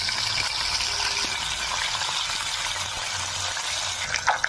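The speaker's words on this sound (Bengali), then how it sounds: "মাছগুলো ভেজে দিচ্ছি।" Fish frying in hot oil in a pan for a light potato and pointed-gourd fish curry, a steady, loud crackling sizzle that holds for several seconds with no talk, a few sharper pops near the end.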